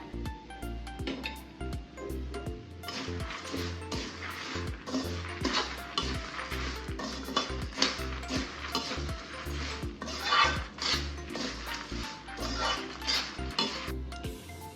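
Chana dal stirred and roasting in a pan of oil with curry leaves, a continuous dry rustle and sizzle broken by rhythmic scrapes and clinks of a spatula against the pan, close and steady throughout.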